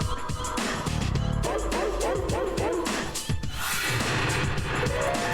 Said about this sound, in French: le synthé avec les bruits de chien en note, c'est un plaisir